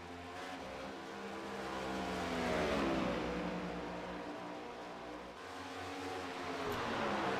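A sim race car laps Charlotte Motor Speedway in a racing game, its engine droning steadily at high revs, swelling and easing slightly as it circles the oval, faint and continuous.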